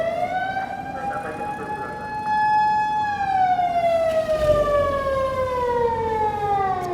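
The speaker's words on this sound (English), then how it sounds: "Yeah, that's an ambulance." An ambulance siren wails along a Tokyo street in Kabukicho, a loud steady tone that holds and then slides downward in pitch as the vehicle passes close by, with traffic rumble underneath.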